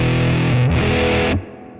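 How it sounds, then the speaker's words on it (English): Electric guitar played through an amp modeller emulating a Deluxe-style amp at full volume, heavily distorted and saturated, loud dense chords ringing out alone before cutting off abruptly near the end. "If you wind up the volume, you get all the distortion."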